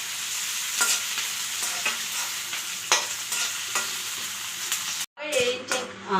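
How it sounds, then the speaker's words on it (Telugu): Vegetables sizzle and stir-fry in a pan for street-style lo mein noodles, with a loud continuous hiss broken by repeated clanks of a spatula scraping the pan and a brief cut near the end. "బాగా వేయించాం కదండి"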